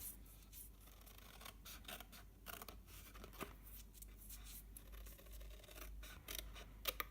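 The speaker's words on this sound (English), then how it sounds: "then we're going to cut up each of these straight lines" Scissors cutting straight lines into stamped cardstock for a half-cracker gift box, a close run of quiet crisp snips and paper rustles with no talk.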